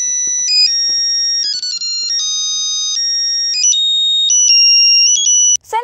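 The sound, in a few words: mobile phone ringing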